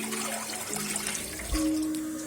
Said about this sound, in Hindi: और अब हम इसमें दूध डालेंगे